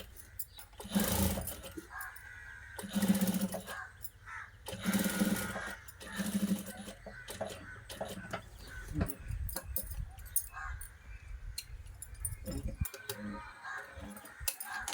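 Sewing machine stitching lace onto a blouse, running in several loud bursts of rapid whirring with brief pauses between them, then quieter handling and clicks toward the end.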